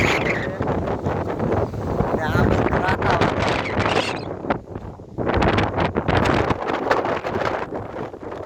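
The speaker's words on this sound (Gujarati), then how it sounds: "પવન જ એટલો આવે અત્યારે" Strong wind buffets the microphone in loud, rough gusts that rise and fall, dropping briefly near the middle before blowing hard again.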